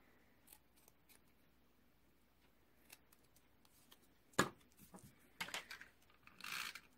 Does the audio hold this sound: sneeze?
no